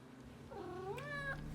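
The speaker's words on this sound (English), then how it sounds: "can you hear a cat just like really subtly purring in the background of this video?" A cat meows with a drawn-out, rising-and-falling tone, faint and low in level over a steady background hum.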